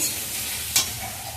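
Ginger paste with turmeric frying in a pan gives a steady soft sizzle, with a brief brighter hiss as it is stirred partway through.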